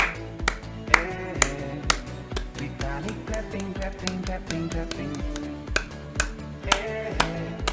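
Upbeat happy clapping song with sharp, regular hand claps punctuating a bouncy melodic backing, moderately loud and steady throughout, no one talking.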